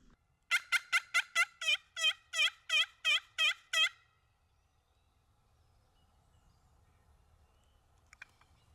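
A wild turkey tom gobbles on the opening day of spring turkey season in Indiana, a clear rapid series of about ten calls, then quiet outdoor background.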